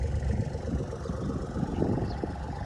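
A tractor pushing earth to clear land and open fresh soil for a cassava plot runs in a steady, low, rumbling drone at moderate distance, with no voices.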